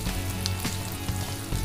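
Dry masalas of coriander and cumin powder sizzle in hot oil in a pan for prawn masala, a steady close frying crackle with a few small pops.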